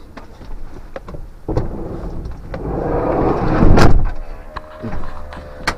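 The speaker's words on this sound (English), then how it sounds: "let me just shut the door because it's a bit windy" A Mazda Bongo campervan door slides and thuds shut amid gusty wind noise, with a few scattered knocks and rattles before and after.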